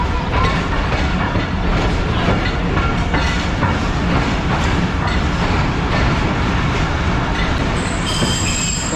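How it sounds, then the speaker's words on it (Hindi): The Rehman Baba Express, a passenger train led by Karachi-shed JM30 locomotive 8205, rumbles loudly and continuously with clattering wheels and metallic rail squeal, heard up close. "47 अप रहमान बाबा एक्सप्रेस को आज लीड कर रहा है कराची शेड का JM30 8205"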